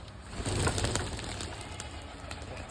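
A large flock of pigeons, many of them white and coffee-coloured, coos together in an open-air loft, a dense continuous murmur of calls heard from close range with no talk.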